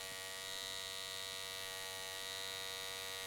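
An electric hair clipper hums steadily and continuously while cutting a comb-over with a hard part, a constant buzzing drone with no talk over it.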